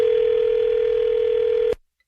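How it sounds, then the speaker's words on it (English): A steady telephone dial tone hums loud and continuous for nearly two seconds after a call is hung up, then cuts off abruptly into silence. "You don't hang no phone up on me."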